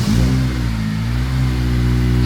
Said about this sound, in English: Get the first start now with the exhaust.